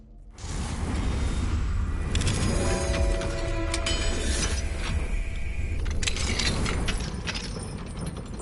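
Alohomora unlocking charm working a lock in the Hogwarts Legacy game: a sustained run of mechanical clicks, ratcheting and metallic creaks with tonal chimes, close and clear with no talking.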